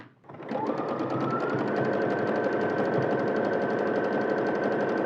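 A sewing machine stitches a seam on women's trousers, starting up and running in a steady, fast, close-up mechanical whir for several seconds.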